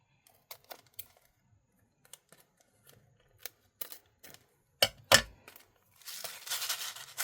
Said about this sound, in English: And then we're going to trim off these pieces.